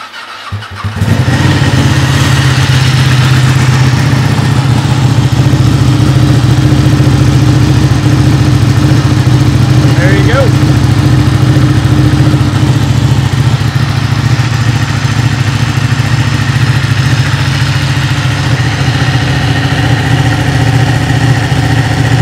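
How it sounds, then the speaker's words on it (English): A Ducati motorcycle engine fires up and then idles loudly and steadily, a deep continuous throbbing rumble close by, no talking. "you can hear, it's a very loud motorcycle"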